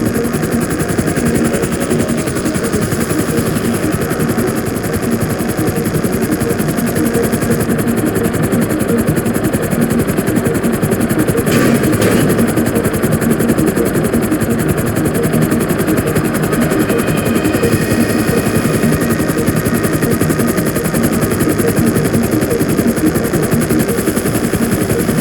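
A helicopter hovers in Grand Theft Auto V, its loud rotor and engine drone filling the scene continuously and close, with a brief sharper burst partway through.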